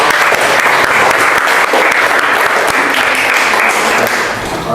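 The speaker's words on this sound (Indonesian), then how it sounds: "Oke, tepuk tangan." Loud, dense clapping from a classroom full of students, steady and sustained for several seconds with no talking over it.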